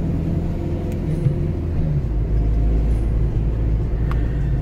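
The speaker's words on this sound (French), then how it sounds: "on est de nouveau dans la voiture, sur le chemin du retour" Camping car driving home along the road, a steady low engine and road rumble from inside the cabin with a few small knocks and clicks, no talking.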